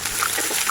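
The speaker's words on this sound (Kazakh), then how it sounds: "Қызған сәтте бетіне пиязымызды салып" Onion dropped into hot oil in a cooking pot, giving a short, steady hiss of sizzling and frying with a faint watery crackle.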